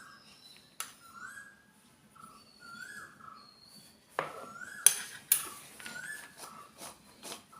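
A spoon clinks and scrapes against a dish while cut mango pieces are salted and mixed for pickle. Sparse, close metallic taps ring out over a quiet background with faint whistling chirps.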